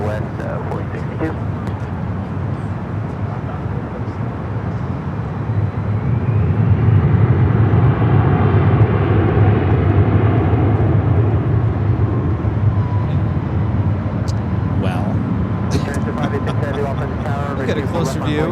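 An airliner taking off from runway 24 left at Los Angeles International Airport, a steady broad jet roar that swells midway and stays loud and sustained, with wind buffeting and voices talking over it.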